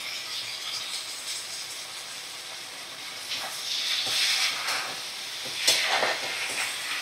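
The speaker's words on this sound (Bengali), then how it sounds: "এবার ভালো করে আমি নাড়াচাড়া করে নেব।" Ginger-garlic and cumin paste sizzles and hisses as it is stirred in hot oil, a steady close frying hiss with occasional scraping and rattling from the spoon in the pan.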